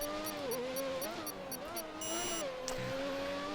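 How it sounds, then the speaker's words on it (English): Turbo-era Formula 1 race car engine in the video game F1 2019 at Monaco, a high, harmonic whine that rises and falls steadily through gear changes, loud and close throughout with some faint speech-like sound underneath. "I'm enjoying this sound of the car, freaking lovely. The old turbo era."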